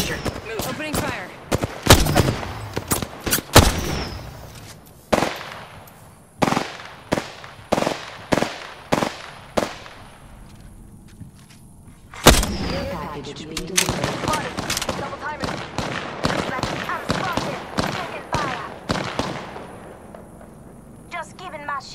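Bursts of gunfire in Apex Legends, a battle royale game: scattered sharp shots, then rapid volleys and repeated single cracks, loud and close, with a voice speaking over parts of the exchange.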